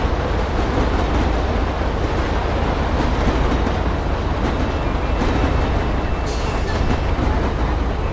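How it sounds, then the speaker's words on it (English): A train rolls past nearby in a loud, continuous rumble with rattling wheels and clatter, steady and unbroken throughout with no talking. "Train just passed."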